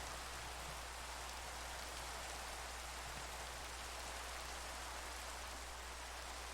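Steady rain falls in the video game Minecraft, a soft, even hiss of drops that holds without a break and stays fairly quiet in the background.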